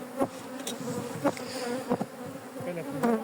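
Honeybees buzz steadily around an open hive as the queen excluder and super are set back on and it is closed, a close, continuous droning with brief louder swells as individual bees pass near.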